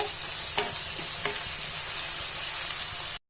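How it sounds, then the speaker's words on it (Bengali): Onions fry in mustard oil for a beef tehari base, a loud continuous sizzle broken by a few sharp spoon scrapes and stirs, then a brief cutoff near the end. "পেঁয়াজটা একটু ভাজা ভাজা হবে"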